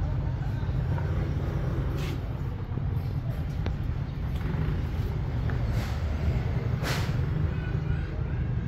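Mitsubishi Montero Gen 3 engine running with a muffler delete, full straight pipe and Borla tip, giving a steady low, loud drone throughout with some speech over it.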